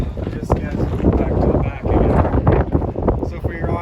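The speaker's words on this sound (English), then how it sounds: "We are pretty windy today" Steady wind buffets the microphone, a low rumbling roar with gusts swelling and easing throughout.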